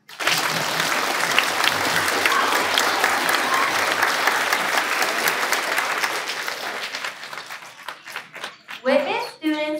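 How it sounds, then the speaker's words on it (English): A school Earth Day audience claps steadily for several seconds, then the applause thins out into scattered claps before fading. "Let's give them a clap."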